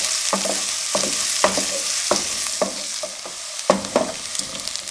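Finely chopped onions frying in a pan for an Aalu Manchurian dish, a steady close sizzle with repeated stirring scrapes and clinks at an even rhythm, no voices.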